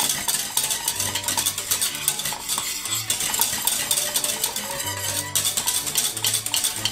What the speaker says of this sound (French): je vais cuire cette crème anglaise à la noix de coco